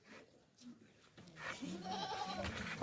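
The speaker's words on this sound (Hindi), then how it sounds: "ताज़ा वजनी बकरा है, ज़बरदस्त" A hefty male goat for sale at a livestock market bleats a drawn-out, wavering cry, close by, with people talking around it.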